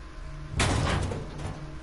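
A door closing in a tabletop horror roleplay session, heard as a single loud broadband thud about halfway through, followed by a brief decaying rattle over a low background hum.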